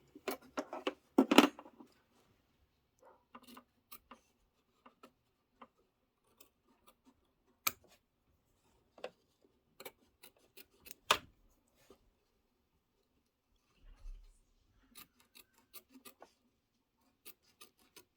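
Scissors snip through gray fabric in short, sparse cuts, a few louder clips standing out against an otherwise quiet room with no talking.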